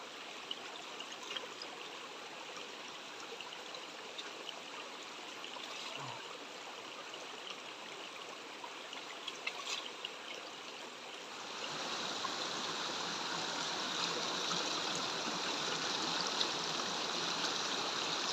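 A mountain stream on a forest trek flows in a steady, continuous wash of water, trickling and gurgling up close and growing fuller and louder partway through, with no voices.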